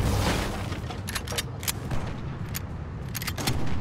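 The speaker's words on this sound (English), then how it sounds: "Oh, gunshots." Sharp gunshots crack out in quick, irregular bursts over a dense, rumbling background.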